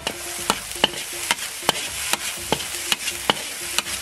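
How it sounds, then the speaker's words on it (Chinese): Sauces with ketchup, chili paste and sweet bean paste are stir-fried on a teppanyaki griddle, a spatula scraping and tapping the hot metal in a steady rhythm over a constant sizzle. "都炒酸炒香了"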